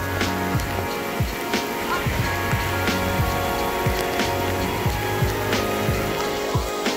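Heavy rain pours steadily onto a surface close to the microphone, a dense continuous hiss broken by intermittent low thumps and scrapes as the camera is handled.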